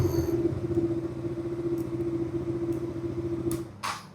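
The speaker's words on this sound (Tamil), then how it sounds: "வண்டி ஆன் பண்ணி பார்த்துடலாம்." A second-hand 2020 BS4 KTM Duke 200 motorcycle idles with a steady close engine drone, then cuts off near the end, followed by a couple of brief clunks.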